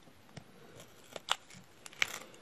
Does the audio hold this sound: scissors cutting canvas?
yes